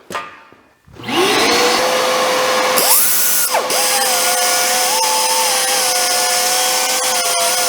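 A coarse Prime MX grinding wheel spins up into a loud, high whine as it grinds the steel frame of a Yamaha YZ500 two-stroke motorcycle, holding a sustained pitch with brief shifts as pressure changes.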